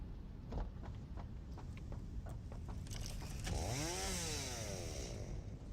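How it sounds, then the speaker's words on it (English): Chainsaw in the factory-building video game Satisfactory, with rapid clicks and then a rising, wavering engine rev that holds at a steady buzz, loud and close, with no talk over it. "I keep loading up the old chainsaw."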